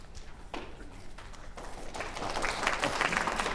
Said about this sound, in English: you really want to save the applause for our prize winners